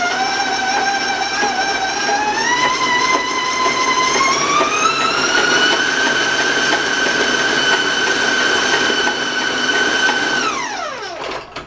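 A stand mixer mixing candy cookie dough at high speed gives off a loud, steady whine whose pitch climbs as the speed rises, then holds, before dropping away sharply as it shuts off.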